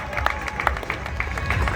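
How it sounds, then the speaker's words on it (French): Short burst of audience clapping at an amateur wrestling (catch) show, scattered sharp claps over a murmuring crowd, moderately loud and brief, with a faint voice in the background. "On les applaudit tous les deux, ils le méritent."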